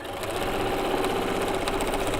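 A sewing machine runs continuously as it stitches quilt block pieces for a floating star block, a fast, even mechanical whir with rapid needle ticks, close and steady throughout.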